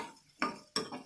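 Two sharp metal scrapes of a spoon against a pan while spices are sautéed in oil for a Tamil chutney, close and brief over a faint background.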